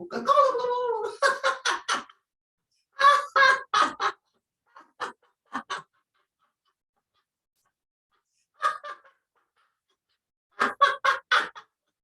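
People imitate turkey sounds during a chair yoga session, voicing several bursts of rapid gobbling calls in groups separated by quiet gaps, close and clear.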